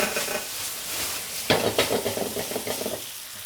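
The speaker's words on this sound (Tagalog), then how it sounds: "Tsaka nyo ngayon pwedeng igisa ng maayos." Chicken sautéing in a hot pan gives a steady close sizzle, broken by scraping stirs and light clinks of utensil on pan, with no talk.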